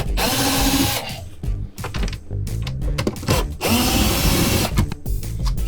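A small DeWalt power drill whirs in a tight space inside an RV cabinet, running in several loud bursts with revving pitch and short pauses between them, the trigger stopping and starting.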